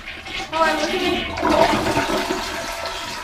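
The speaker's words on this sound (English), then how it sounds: "Now you can go ahead and flush it." A toilet with a leak under repair flushes loudly up close in a home bathroom, with a rushing surge of water that swells and then drains away while a person speaks briefly over it.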